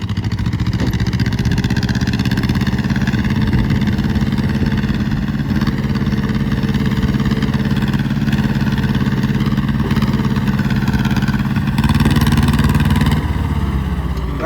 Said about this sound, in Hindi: निकाल दिया ट्रैक्टर सोनू ने